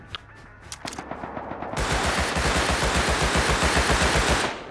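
Rapid automatic gunfire in an online shooter game, a sustained loud burst of closely spaced shots following a few scattered single shots.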